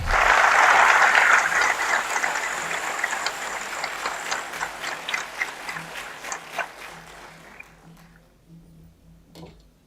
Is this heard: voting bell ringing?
no